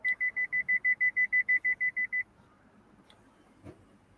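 A rapid series of about thirteen identical high electronic beeps from a new car's proximity sensor warning, evenly spaced and fairly loud, then they stop, leaving low background rumble and a faint thump.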